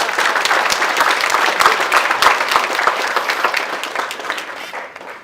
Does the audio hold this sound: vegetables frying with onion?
no